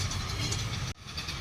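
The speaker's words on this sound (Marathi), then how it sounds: "ट्रेन आलं रे." A train rumbles past steadily at close range, a continuous heavy rolling noise with a brief dip partway through.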